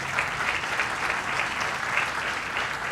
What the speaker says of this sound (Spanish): Fuerte el aplauso para ella, por favor.